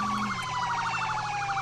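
Ambulance siren in the ERLC video game: a loud, steady wailing siren cycling rapidly up and down in an even rhythm, heard alone for under two seconds.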